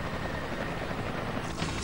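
Military helicopters in a Transformers Energon cartoon scene set in a jungle produce a steady, dense rotor and engine roar that holds throughout without speech.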